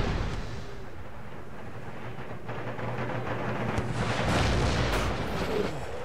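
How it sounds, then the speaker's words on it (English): Artillery guns fire in the Empire Total War video game, a battle between British and Spanish forces, with dense rumbling booms and continuous heavy blasts that swell toward the end and no talking. "Those guns firing."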